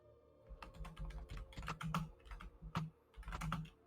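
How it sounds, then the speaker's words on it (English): Close, quick keystrokes rattle on a computer keyboard in uneven bursts and short pauses, with no talking. "I'm typing mine out."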